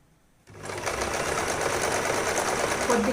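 Sewing machine stitching fabric for a homemade scrunchie. It starts abruptly after a short quiet moment, then runs as a steady, continuous mechanical whir close up.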